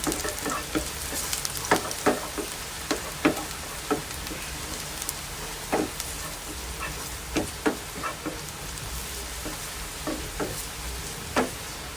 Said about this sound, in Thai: ตั้งน้ำมันให้ร้อนนะคะ แล้วก็เอากระเทียมนะคะ มาเจียวก่อนค่ะ